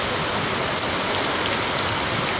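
Heavy unseasonal rain with wind pouring down steadily at an agricultural market yard, a dense, continuous close roar of rainfall with no breaks.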